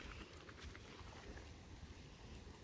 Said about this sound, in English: we got us a little bit of wind going here